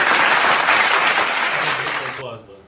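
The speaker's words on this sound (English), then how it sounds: "Applause button." Canned applause from a soundboard button fills the clip with dense, steady clapping and a faint crowd tone, loud and close, then cuts off abruptly near the end, leaving a brief quiet tail.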